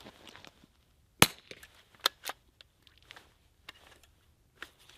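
A suppressed .22 bolt-action rifle fires one sharp, loud crack, followed by a few quieter clicks and knocks in an otherwise quiet space.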